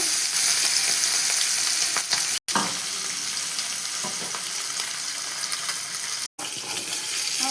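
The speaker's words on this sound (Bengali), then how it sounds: "কড়াই বসে দিয়েছি এখন তেল দিয়ে দেব মাছগুলো হালকা করে ভেজে নেব" Fish frying lightly in oil in a wok gives a steady, close, crackling sizzle that runs throughout, broken by two brief drops to near silence.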